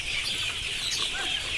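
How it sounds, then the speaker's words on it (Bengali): Commercial Sonali chickens in a poultry shed clucking and calling, a steady crowded mix of bird sounds with occasional wing flaps, moderately quiet and without speech. "কমার্শিয়াল মুরগি যদি খাবার না পায়"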